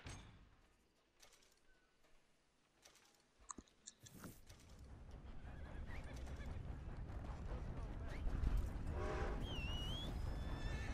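A video game horse whinnies amid rustling and clopping noises, growing louder toward the end with a bird-like chirp near the close.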